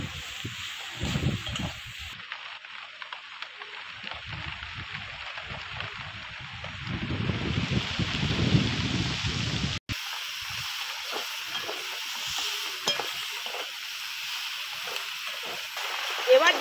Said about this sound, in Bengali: ঝড়ও উঠে গেছে, বৃষ্টিও পড়ছে, পেছন দিক দিয়ে সব ভিজে যাচ্ছে।